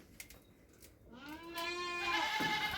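A goat kid on a goat farm bleats in one long, wavering call that rises to close, loud volume and holds to the end, after a quiet stretch of faint background noise.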